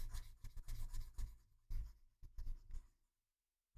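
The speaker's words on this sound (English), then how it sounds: "let me just erase all of this first" Writing is rubbed off a classroom board in several quick scrubbing strokes, close and fairly soft, with short pauses between them before everything falls silent.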